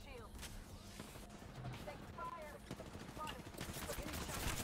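Rapid gunfire bursts in a battle royale video game crackle through a fight, with close sharp shots stacking into busy volleys while a player speaks over the action.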